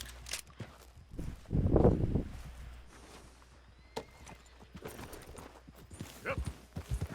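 Horse hooves clip-clopping while riding in the Red Dead Redemption 2 video game, a loose run of fairly close thuds with a louder burst early on and scattered steps later, under faint background sounds.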